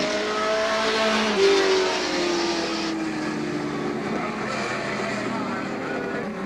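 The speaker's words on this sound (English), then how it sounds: "All right, here they come. Green flag is out. We're racing." Race cars at Star Speedway in 1991 roar off at a green-flag start, a continuous engine drone from the field heard under an announcer's talk.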